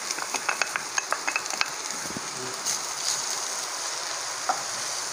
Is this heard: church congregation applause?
no